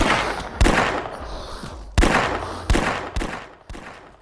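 Gunshots in the video game The Last Stand Union City, five sharp loud shots spaced irregularly, each trailing off into a decaying rumble.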